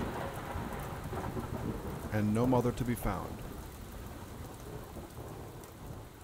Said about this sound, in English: The biggest storm of the summer,